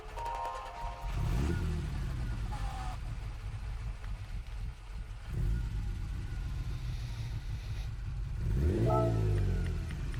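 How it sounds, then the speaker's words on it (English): A 1971 Ferrari Dino 246 GT starts up in Gran Turismo 7, a mid-engine car firing and revving repeatedly, with rising and falling engine sweeps and a steady idle between blips, close and loud. "I'm going to click on this car, we'll listen to its startup sound"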